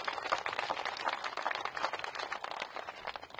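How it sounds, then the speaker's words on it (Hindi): Steady, dense clapping from a large crowd at a BJP political rally, heard from a distance and sustained evenly with no talking over it. "तो एक बार मेरी जनता के लिए जोरदार तालियां बजा दीजिए जिन्होंने किया"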